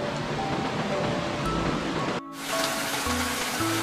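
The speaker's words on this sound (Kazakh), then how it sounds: "бұлақтың сылдыры" Spring water babbles in a continuous, dense rushing wash, close and steady, with a brief break partway through before the flow resumes.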